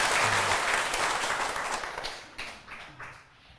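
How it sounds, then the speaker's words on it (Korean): A seated audience at a lecture bursts into loud, dense applause that gradually thins and fades over a few seconds. "박수 한번 치세요"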